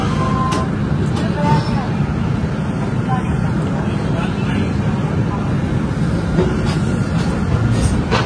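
Darjeeling Mail passenger train pulling out of Malda Town station, heard from inside as a steady, loud low rumble of moving coaches that runs throughout, with faint voices in the carriage.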